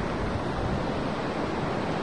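Waves roll in at Sirombu beach in West Nias as a steady, dense wash of surf noise, loud and unbroken throughout with no voices.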